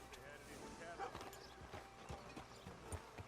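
Horse hooves clip-clop in Red Dead Redemption 2, a steady run of hoofbeats under game ambience and someone talking.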